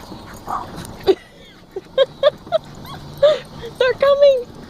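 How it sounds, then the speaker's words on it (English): Shih Tzu dogs give a string of short, high yips and whimpering barks, scattered and fairly close, with people's voices mixed in around them. "The zombie dogs are gonna get us."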